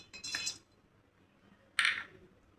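About ten to twelve cashew nuts drop into a mixer jar in two quick bursts. Each burst is a bright rattle of small hard pieces clinking against the jar, separated by a quiet pause.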